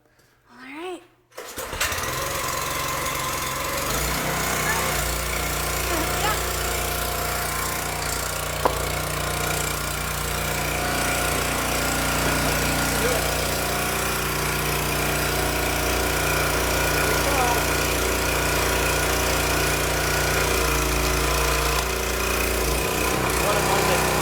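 A gas-powered log splitter engine cranks, catches and then runs at a steady, loud, rough drone for a long stretch without changing pitch.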